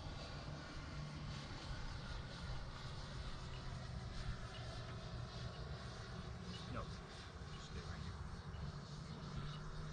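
Freewing Avanti S 80mm 12-blade EDF RC sport jet at an RC flying field, its ducted fan a steady distant whine and rumble lasting the whole stretch, with people talking over it.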